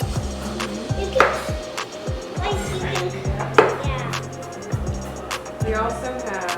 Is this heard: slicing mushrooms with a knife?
yes